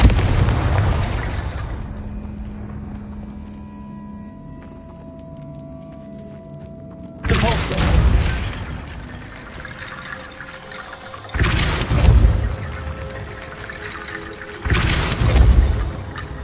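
A Confringo blasting spell explodes in a wizard video game. Three heavy, booming blasts sound at intervals after a quieter opening with faint sustained tones.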